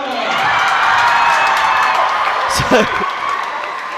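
Crowd at a netball match between Kings Worcester and RGS Worcester cheering for the Kings player of the match, a broad roar of voices and whoops swelling throughout, with brief claps and a commentator talking over it.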